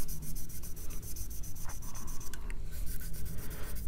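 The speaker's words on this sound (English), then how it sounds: "the blue side of this is a very, very fine grit, more of polishing than sanding." A very fine grit polishing pad rubs a plastic panel on a 1:6 scale Tamiya CRF1000L Africa Twin motorcycle model in a quick, steady back-and-forth scrubbing rhythm. The rubbing is soft and close, with no voices.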